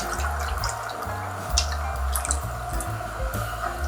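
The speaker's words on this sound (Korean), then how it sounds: "멸치 액젓은 3컵을 넣을 거예요" Anchovy fish sauce is poured into a pot of water, a close, steady liquid stream with dripping and splashing textures and no voices over it.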